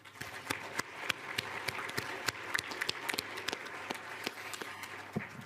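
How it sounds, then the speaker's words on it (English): An audience at a Davos World Economic Forum panel gives a brief round of applause, scattered claps rising and thinning over a few seconds in a large hall. "they deserve a big applause"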